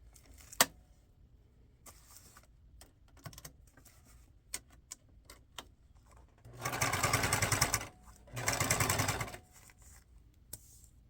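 A sewing machine stitches a fabric butterfly onto a strip in two short bursts of steady whirring, close and clear, amid quiet clicks and handling noises of fabric and paper scraps.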